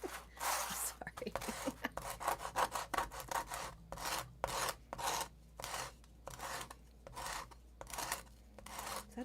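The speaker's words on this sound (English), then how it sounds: "I don't know if this grinding noise is irritating to anyone, so sorry if it is." A file rasps back and forth against a craft wand, shaping its tip to a point in repeated irregular strokes, close and fairly loud, with short pauses between bursts and no talking.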